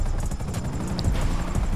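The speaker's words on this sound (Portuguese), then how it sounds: "os cara tem helicóptero" A helicopter in the GTA RP video game gives off a loud, steady rotor whir and engine drone, close and continuous throughout.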